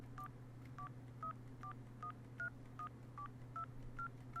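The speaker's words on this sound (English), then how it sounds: "can't forget the old school telephone" Eleven quick electronic dial tones from an old-style telephone in Garry's Mod beep in an even rhythm over a steady low hum, each a short, clear blip.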